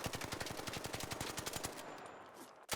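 Fast automatic gunfire from an unmodified weapon in the video game Arc Raiders, a rapid, evenly spaced burst of about twenty shots lasting nearly two seconds before stopping and trailing off into a quiet tail.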